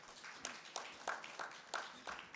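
Faint, scattered applause from delegates at the WDSF Annual General Meeting in Rome: a thin patter of hands with a few distinct claps recurring every fraction of a second, distant and quiet.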